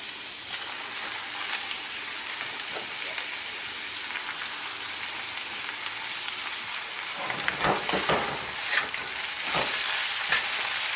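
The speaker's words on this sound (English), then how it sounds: "give it a stir, just so it's coated in that lovely garlic oil that we started off there with" Bitter melon frying and being stirred in garlic oil in a pot over medium-high heat, a steady close sizzle with scraping stir noises growing busier toward the end.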